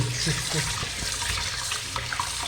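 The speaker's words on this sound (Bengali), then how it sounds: "একটু ভালো করে ধুয়ে নিই" Tap water runs steadily and splashes while chicken meat is washed under it, a close, continuous gushing with faint handling sounds.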